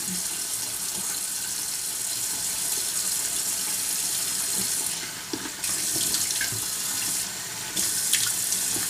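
Tap water runs steadily into a sink while a chemical peel is rinsed off the face with baking-soda water, a continuous close splashing stream that briefly shifts twice as hands move through it.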